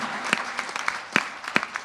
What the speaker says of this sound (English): Let's give all those people a big round of applause,